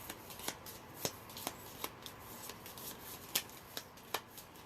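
Tea leaf oracle cards shuffled and drawn from a deck, a run of soft papery flicks and snaps at close range, with no talk.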